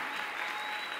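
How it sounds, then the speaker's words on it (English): A church congregation claps together at a Sunday evening service, a dense, steady wash of many hands filling the hall at full volume without pause. "Come on, everybody, clap."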